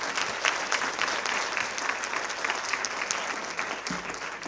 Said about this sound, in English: She deserves another round of applause, a bigger one.